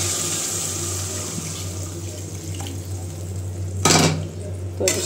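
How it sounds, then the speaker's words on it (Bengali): Water poured into a pot of browned meat for curry gravy in a home kitchen, a steady low splashing stream with a couple of brief louder gushes near the end. "তো এখন আমি দিয়ে দিব ঝোলের জন্য জল।"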